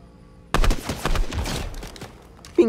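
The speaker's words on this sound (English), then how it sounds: "Oh, I heard gun." Rapid bursts of gunfire from the video game Fortnite, a dense volley of loud shots lasting about two seconds, then a brief pause and a sharp closing sound.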